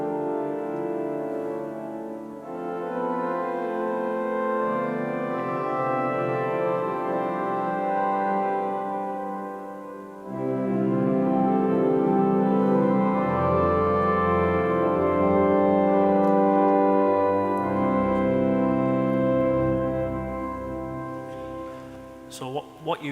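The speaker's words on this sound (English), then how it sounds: "So here are the great diapasons in succession." Four great diapason stops on a restored grand pipe organ sound one after another, each a sustained, full chord, the largest last, with brief gaps between them in a resonant hall and no voices.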